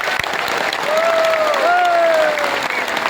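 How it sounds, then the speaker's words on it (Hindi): Loud, sustained applause fills a crowd at a patriotic public event in Uttarakhand honoring the Indian armed forces, with whistles and cheering rising over the dense clapping throughout. "आपको एक ताली बहुत जोर से बजानी पड़ेगी"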